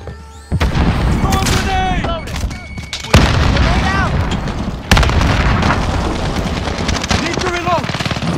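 A frag grenade blast in Call of Duty Modern Warfare multiplayer headquarters mode, a loud booming detonation amid rapid gunfire and further explosions, with radio-style voice callouts layered over the close, dense combat noise.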